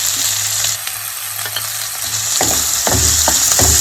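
Chopped onions fry with a little salt in a pan, making a steady close sizzle, with several sharp stirring scrapes and knocks toward the end.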